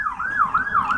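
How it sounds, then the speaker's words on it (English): An ambulance siren wails past a house, its pitch rising and falling in a smooth repeating sweep, fairly clear and moderately loud against quiet surroundings. "There was an ambulance going by my house."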